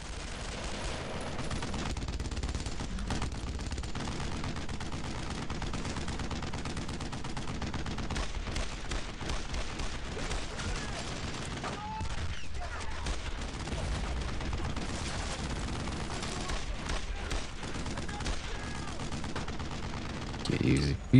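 Steady gunfire and rifle shots crackle through a World War II battle in Brothers in Arms: Road to Hill 30, dense and continuous at moderate level, with a brief quieter lull midway.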